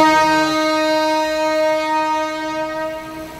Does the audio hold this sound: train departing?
yes